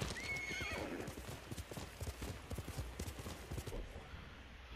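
In Ghost of Tsushima, hooves pound rapidly in a galloping rhythm as a horse whinnies briefly at the start, with a rushing background throughout.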